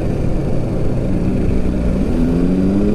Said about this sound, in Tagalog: maingay lang talaga yung motor.